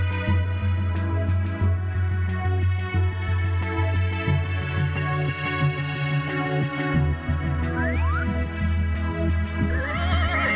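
A horse neighs and whinnies loudly over a dense, continuous music backdrop, with a rising whinny standing out near the end.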